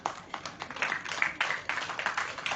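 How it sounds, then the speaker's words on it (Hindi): An audience at a ceremony claps, giving a dense, steady patter of many hands at close to moderate distance that carries on without a break. "कृपया तालियां बजती रहे।"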